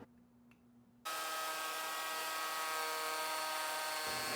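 A router cuts a curve in wood along a clamped template: after a second of faint quiet, it spins up abruptly into a loud, steady high-pitched whine with a constant tone, running close and unbroken for the rest of the clip.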